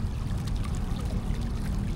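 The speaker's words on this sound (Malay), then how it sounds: "Air dia mengalir dekat situ." Water falling and flowing steadily in an urban water feature near Kuala Lumpur Library, a continuous close rushing wash with no breaks and no talk.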